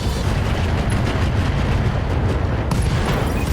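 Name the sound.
ammo explosion of a mech in MechWarrior video game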